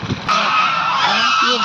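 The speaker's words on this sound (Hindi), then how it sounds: "ये डक" Ducks in a park give loud, continuous honking and quacking calls from close by, beginning abruptly after a brief moment of quieter noise and holding steady to the end.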